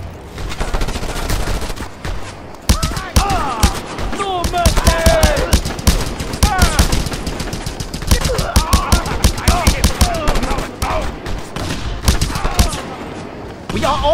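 Sustained gunfire in Just Cause 2, rapid automatic bursts and sharp single shots crackling in a dense, uneven rhythm, with game voices speaking over the shooting.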